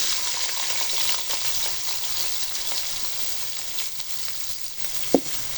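Sliced onions fry in hot ghee in a karahi with a close, crackling sizzle and the occasional stir, and one sharp knock of a utensil comes near the end.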